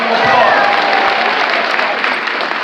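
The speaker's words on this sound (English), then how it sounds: "give yourselves a great round of applause" Dense, sustained applause fills a large hotel ballroom as a teachers' union crowd (UFT) claps for itself at a New York Hilton gathering, steady and loud from start to finish with some crowd noise mixed in.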